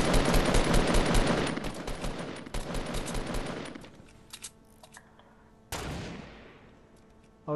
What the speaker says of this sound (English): I was just shooting a bush to see if he was there.